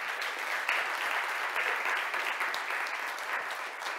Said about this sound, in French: On applaudit encore une fois nos 3 finalistes pour le prix en innovation.